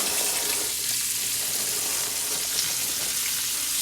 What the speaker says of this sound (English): Now I'm gonna turn this over in this pan with just the oil and the grease that's left over from the sausage